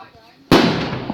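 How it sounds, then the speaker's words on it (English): A neighbour's bonfire-night firework goes off in one sudden loud bang, with a broad crackling decay that fades slowly after the blast. "That was a massive big bang from the neighbours."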